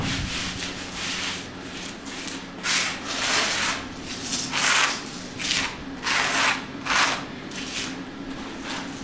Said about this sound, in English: These little hairline cracks I'm just going to rub in with my hand